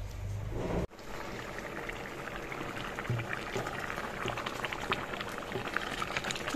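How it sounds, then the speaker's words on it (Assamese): A pot of bottle gourd and pea curry bubbles steadily on the stove, a continuous soft simmering burble after a brief clatter at the start, with no voices. "এইখিনি এতিয়া উতলিবলৈ দিম প্ৰায় 10 মিনিট সময়"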